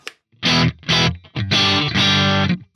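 Heavily distorted electric guitar through a Neural DSP SLO100 amp plugin, playing loud, close, chugging chords in four or five choppy bursts separated by brief silences.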